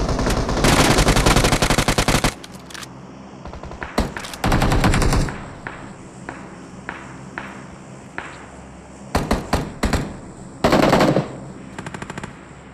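Automatic weapon fire in BGMI rattles out in several rapid, loud bursts separated by short pauses, with faint footstep-like taps in between.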